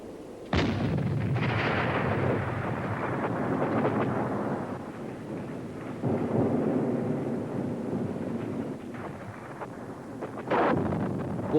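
Heavy artillery guns fire in battle, deep booming blasts with long rumbling tails and wind buffeting, several loud shots spaced seconds apart.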